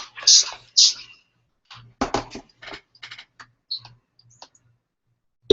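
Typing on a European-layout computer keyboard, with scattered quick clusters of clicking keystrokes and pauses between them, heard up close alongside brief bits of talk.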